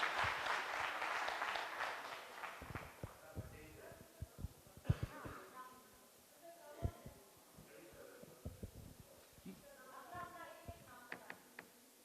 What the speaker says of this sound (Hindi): So I think इनको खड़े होके एक बार ताली बजाना बनता है हमारा सबका